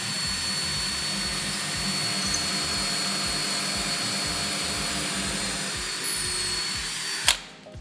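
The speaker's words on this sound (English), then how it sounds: "So I'm gonna go ahead and drill my first pilot hole based on the location that's marked." A power drill bores a pilot hole into a wall while a floating teak shelf is being installed, holding a steady loud whir with a rhythmic pulsing underneath, then stopping with a sharp click.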